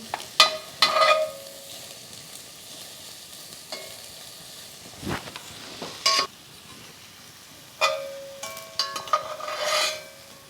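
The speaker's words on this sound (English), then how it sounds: "To start the sautéing, I had about 1 tablespoon of olive oil in the bottom of the pan." Corned beef sautéing in olive oil in a pan, with intermittent sizzling and scraping bursts of stirring, separated by quieter stretches, close and moderately loud.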